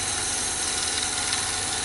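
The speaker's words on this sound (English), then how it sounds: "Very fine shaping, just with the edge of the spindle gouge, just touching." A wood lathe spins a small wooden box while a spindle gouge makes very fine shaping cuts, giving a steady, even whirring drone with a low motor hum that holds throughout.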